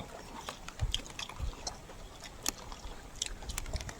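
Someone chews a hard, tough mouthful while out foraging mushrooms, with soft irregular crunches and bites close to the mic against faint outdoor background noise.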